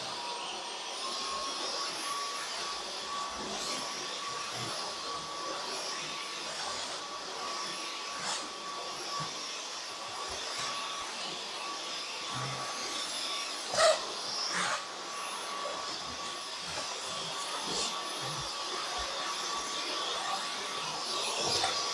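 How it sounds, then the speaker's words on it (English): A vacuum cleaner runs continuously indoors, a steady whining drone with a sustained high tone, occasional knocks and bumps as it moves, and no talking. "let's vacuum."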